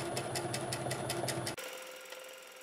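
A sewing machine running at fast speed without a foot pedal, stitching fabric edge strips for a beginner patchwork project, gives a steady rapid rhythmic whir for about a second and a half, then stops abruptly.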